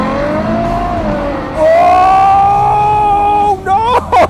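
A supercar, one of a Bugatti Chiron, Rimac Nevera or Lamborghini Aventador SVJ, launches from a standstill on a wet surface with a loud rising engine and drivetrain whine that climbs steadily, ending in choppy bursts.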